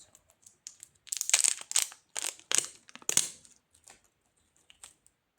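A blind box package is torn and opened close up, with sharp plastic crinkling and rustling in bursts that fade to a few faint clicks.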